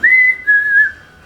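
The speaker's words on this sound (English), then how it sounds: "I like the whistle. Yeah, I do a cute little whistle." A person whistles two short sustained notes, the second slightly lower, clear and close, with a brief gap between them and nothing else heard around it.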